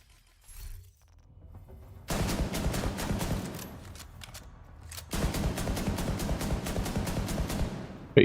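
A rifle without its scope fires rapidly in a video game, loosing two long bursts of quick, sharp shots in a fast even rhythm with a short pause between them, loud and close.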